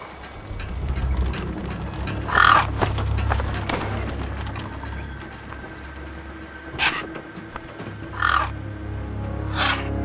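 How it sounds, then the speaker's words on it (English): Scavenger crows, called gang birds, caw from a wasteland in the video game Beyond a Steel Sky: several separate harsh calls at moderate distance over a steady low rumble and patter of ambience. "Then, I heard them. Gang birds, scavengers"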